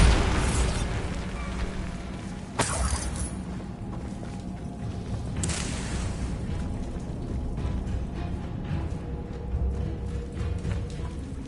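Bombarda spell explosions in Hogwarts Legacy come as a series of sharp bursts, with a loud crack near the start and later ones around three and six seconds. Each burst is followed by continuous rumbling debris and game ambience.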